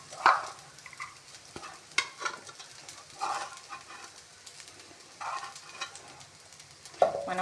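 Spoon stirring curry leaf rice in a pan, scraping and tossing in several short bursts with a light sizzle, close and moderately loud, no voices.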